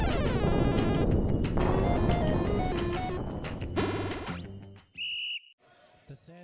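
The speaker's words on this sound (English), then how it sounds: "Whistle sounds, end of the half." A referee's whistle ends the half in a women's futsal match at an indoor arena, rising out of loud crowd and ball noise, then sounding as a single sustained blast near the end.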